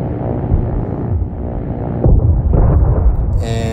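Torpedo detonating by proximity against a helicopter in the video game Trailmakers: a loud low explosive boom swells and rumbles in, followed by a lingering blast roar.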